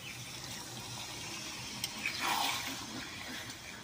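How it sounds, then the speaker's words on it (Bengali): Water is poured steadily into a pan of Assamese sesame chicken curry, a continuous wash of splashing and gushing with a slight surge midway, heard alone at low level. "এখন আমি জলটা দিয়ে দিব"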